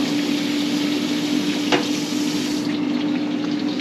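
A large batch of chicken wings fries in hot oil, giving a loud, steady, dense sizzle that continues without a break and without any talk.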